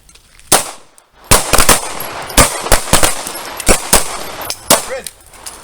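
Pistols fire at an outdoor shooting range during a self-defense class, a ragged volley of loud, sharp shots from several shooters, some close together, some spaced apart, ringing over a murmur of background noise.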